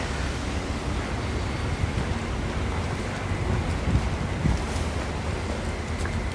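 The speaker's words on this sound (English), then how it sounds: "It's too windy." Continuous wind buffets the microphone outdoors in New York City, a loud, rough broadband rush with low thumps, no voices.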